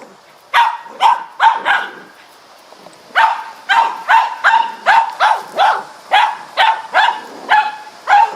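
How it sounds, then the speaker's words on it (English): Dogs bark in a yard near a fish pond, loud close barks in quick bursts: three or four at first, a pause, then a long, regular run of repeated barks. "And there, of course, are the dogs making noise."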